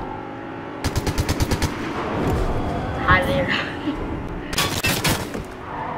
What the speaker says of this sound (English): Thanks for shooting at me.